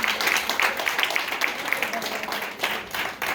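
A church congregation applauding and cheering in acclaim during a Sunday praise and worship service, a dense, steady wash of many hands clapping with scattered voices mixed in, sustained throughout and fairly close.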